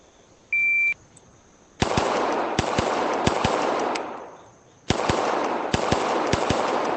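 Simulated gunshots from a shooting drill stage in the ACE VR video game: a start beep, then a fast run of sharp, loud shots in quick bursts over a steady, busy background, with a brief pause between strings.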